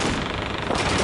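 Dense close gunfire in Call of Duty 2, a World War II shooter, with rapid overlapping rifle and machine-gun shots merging into a loud continuous crackle for about a second.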